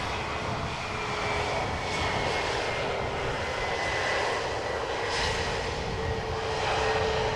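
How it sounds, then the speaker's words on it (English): An airliner landing at Amsterdam Schiphol Airport roars steadily with thrust reversers engaged, a loud broad jet rumble that swells and eases slightly throughout. "And thrust reversers,"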